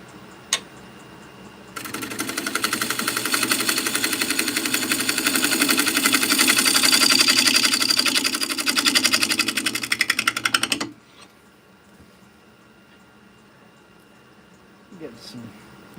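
A woodworking machine runs for about nine seconds, a loud, steady, buzzing mechanical drone with a rapid rhythmic chatter as it cuts shavings from wood, then stops abruptly, leaving near quiet.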